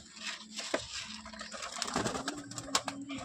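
Pigeons coo softly at close range, several low rolling calls overlapping with faint rustles and scuffling, quiet overall with no talking.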